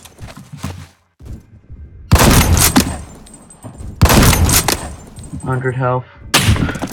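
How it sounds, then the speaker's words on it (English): In the Roblox shooter Phantom Forces, loud close gunshots crack out in several bursts separated by brief quiet gaps, with a short voice speaking in between. "Oh, that was a perfect shot."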